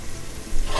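Onions, dill and garam masala sizzle in a hot pan, a brief close crackling fry with a stirring scrape toward the end.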